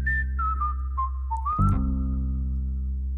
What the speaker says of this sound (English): there's the whistling again going back and forth